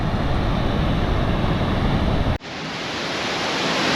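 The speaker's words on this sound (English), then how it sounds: "So this is Nugget Waterfall, and it is impressive." Roaring broadband rush of Nugget Falls, the waterfall near Mendenhall Glacier in Juneau, Alaska, loud and steady for over two seconds before cutting abruptly to a quieter, thinner continuation of the same water noise.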